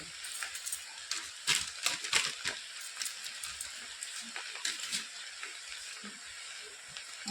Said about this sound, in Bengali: এখন গরম মশলা এর মধ্যে দিয়ে দিচ্ছি দিয়ে নেড়ে চেড়ে নেব